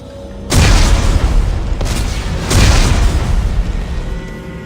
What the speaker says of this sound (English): Computer, arm explosives. And detonate.